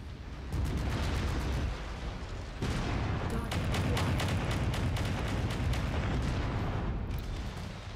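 A mech explodes after going critical in Mechwarrior 5: a heavy booming blast with rumbling, crackling debris and battle noise, loud and sustained with a second surge partway through.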